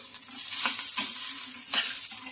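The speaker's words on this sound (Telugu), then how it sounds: "ఇంకా ఇలా కలిపేసుకొని స్టవ్ ఆఫ్ చేసుకోవాలండి." A spoon stirs roasted gram and chopped coriander in a hot pan on the stove, scraping and shuffling in soft, uneven strokes over a faint sizzle. The sound is close and moderately quiet, with no voices.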